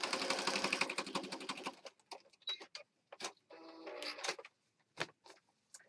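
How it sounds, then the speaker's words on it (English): A sewing machine runs a quick zigzag stitch in a short rhythmic burst lasting about two seconds, followed by quieter scattered clicks and handling noises. "I'm just going to do a quick zigzag stitch."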